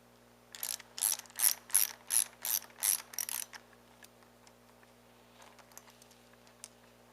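A ratchet fitted with a 13mm socket turns a bolt to remove a mobility scooter wheel: a close run of about eight quick, crisp clicking bursts in even rhythm, then quiet with a few faint handling taps.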